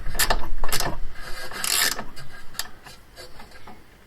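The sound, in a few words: tightening a bolt with a socket ratchet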